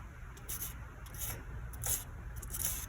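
Jaws of a Tamiya sprue cutter rubbed on fine 2000 grit sandpaper, producing soft, close, rhythmic rasping strokes.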